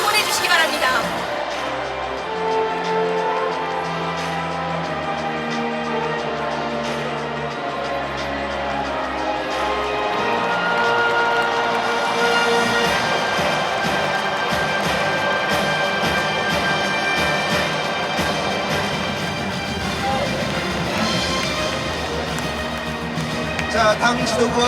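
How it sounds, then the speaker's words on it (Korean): Crowd at a Democratic Party presidential candidate selection convention in a large hall, loud sustained cheering and applause with music, continuous throughout. "뜨거운 박수와 함성을 보내주시기 바랍니다"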